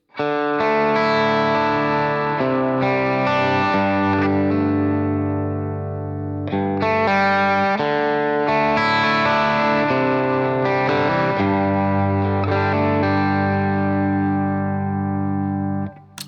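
Stratocaster electric guitar on the bridge pickup, bright and slightly distorted, playing sustained chords and melodic phrases with a brief pause midway, alone and loud.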